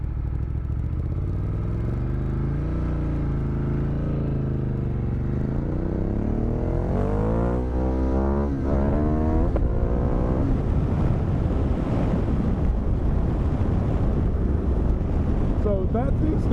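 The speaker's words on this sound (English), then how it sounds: "So that's the extent of wheelies I've been doing on this bike." A Ducati Multistrada motorcycle engine revs up during wheelies, its pitch sweeping upward and wavering under heavy wind buffeting on the microphone, then settling into a rough, loud roar.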